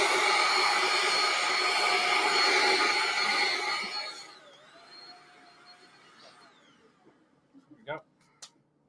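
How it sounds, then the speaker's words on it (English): A vacuum cleaner roars loudly up close for several seconds, then winds down with a falling whine, leaving a few faint knocks and clicks. "I'm going to hit the vacuum cleaner, Johnny, so plug your ears."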